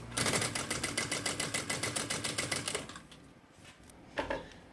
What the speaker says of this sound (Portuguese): eu vou passar uma costurinha em volta, só para segurar esse forro no lugar